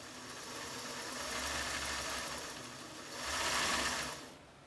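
A Singer sewing machine runs continuously, its motor whirring and needle clattering steadily. The pace rises and falls as the foot controller is pressed harder and eased off, and the sound is close.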